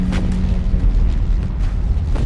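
A World War I artillery barrage at the Battle of the Somme, heard as a continuous deep rumble of distant explosions rolling together with no clear gaps between them.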